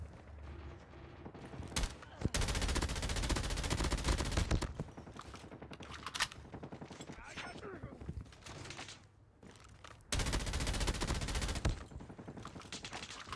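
PP-Bizon gunfire in a video game comes as repeated rapid bursts, several loud close volleys with short gaps, while players talk in between.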